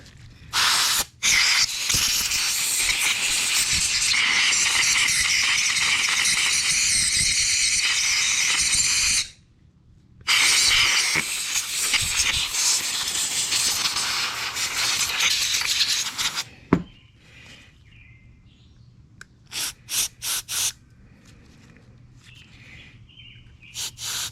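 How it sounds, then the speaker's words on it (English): Compressed air blasts through a Briggs & Stratton 550 series 140cc carburetor in long, loud hissing bursts with one brief pause, then gives way to a few short spurts and quiet. "Plug this one and then blow air through this."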